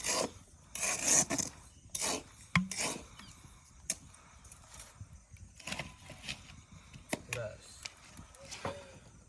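Chicken pieces coated with chili powder, turmeric, pepper and mustard oil are squished and rubbed by hand, giving close, irregular wet rasping and slapping sounds in uneven bursts.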